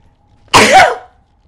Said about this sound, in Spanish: ¿Qué ha sido eso? Estornudo.